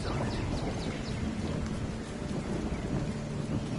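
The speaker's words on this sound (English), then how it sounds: "this time it is actually raining in the game" Rain and thunder in The Division 2 video game, a steady heavy downpour hissing across the scene beneath a low rolling rumble of thunder, continuous and without voices.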